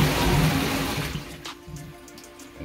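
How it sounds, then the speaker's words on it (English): Toilet in a long-abandoned building flushing, a loud rush of water that tapers off with no tank refill following, leaving only faint trickles. "you can hear that it doesn't fill up anymore because there's no more water"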